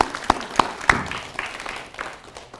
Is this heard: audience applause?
yes